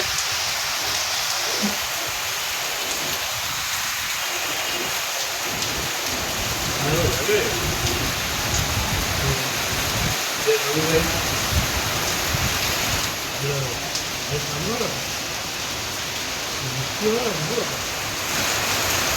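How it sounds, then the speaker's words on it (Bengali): Steady heavy rain pours down in a dense, continuous hiss, with a few faint voices now and then underneath. "মুসলধারে বৃষ্টি হচ্ছে সবাই দেখছো"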